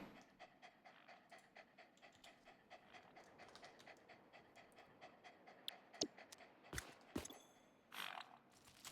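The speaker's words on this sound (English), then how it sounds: "What's this dog over here?" A dog in the Satisfactory video game pants steadily in quick, rhythmic breaths at close range. A few sharp clicks and bumps break in near the end.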